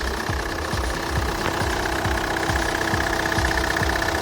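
A 2008 Kia Carnival 11-seat diesel with automatic transmission idles with the engine bay open, a steady close mechanical clatter ticking out in an even rhythm beneath a constant hum, with no talking.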